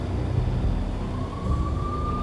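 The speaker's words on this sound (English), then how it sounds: "The NYPD was closing in. I could hear the sirens. Their wail was a crescendo." Distant police sirens in the Max Payne video game rise in a faint, steady wail beneath low city rumble, one tone slowly climbing near the end.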